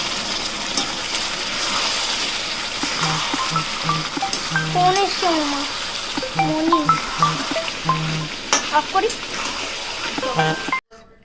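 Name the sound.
chicken frying in a pan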